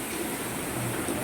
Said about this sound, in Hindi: इतनी तेज बारिश